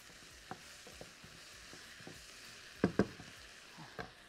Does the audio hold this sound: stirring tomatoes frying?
yes